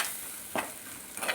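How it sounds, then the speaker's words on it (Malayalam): Spice powders (turmeric, coriander and Kashmiri chilli) stirred into sautéed onions in a pan for a Kerala fish curry, giving two short scraping stirs over a soft, steady sizzle, close and alone. "ഉള്ളിയെല്ലാം വഴന്ന് വന്നിട്ടുണ്ട്. അതിനകത്ത് നമുക്ക് പൊടികൾ ചേർത്ത് കൊടുക്കാം."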